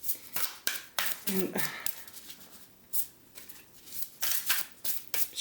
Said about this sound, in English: As I'm shuffling, I'm staring at the Loyalty card